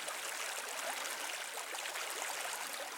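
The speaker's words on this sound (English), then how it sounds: "it's a pretty low stream." Panther Creek, a low, shallow Tennessee stream near swampy ground, flows with a soft, even hiss and faint trickling, steady and unbroken throughout.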